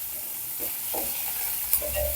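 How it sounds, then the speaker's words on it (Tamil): Chopped onion and garlic sizzle steadily in hot oil in a pan for a Tamil dry seer fish curry, with soft stirring scrapes and a brief clink, close and fairly quiet. "வெங்காயம் பூண்டெல்லாம் நல்லா எண்ணெயிலேயே வதங்கட்டும்."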